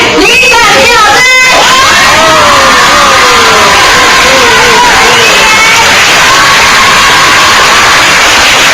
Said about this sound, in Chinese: 以最热情的掌声以及最动人的尖叫声来欢迎我们这一位李展琪老师